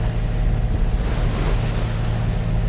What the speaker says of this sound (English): Yeah, wind on the nose.